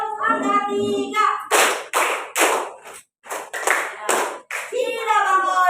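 Students in a classroom clap out a counted rhythm, several loud crisp bursts of clapping in a row, broken by brief pauses, with the teacher's voice leading before and after.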